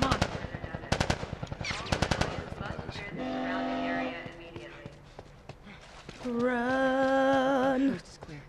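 Rapid gunfire crackles in The Last of Us Part 2 during a tense escape, with sharp bursts of shots at the start. Tonal game sounds and music follow, and voices are heard calling out between the noise.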